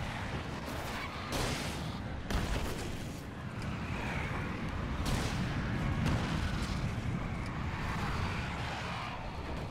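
Flare gun shots in the Alan Wake game, several booming blasts over a dense rumbling roar, loud and close, with no talk.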